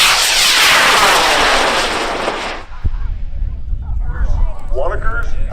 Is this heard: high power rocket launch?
yes